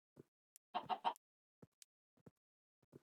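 A Minecraft chicken clucks three times in quick succession, close and clear, surrounded by faint scattered game footstep and movement sounds in otherwise quiet surroundings.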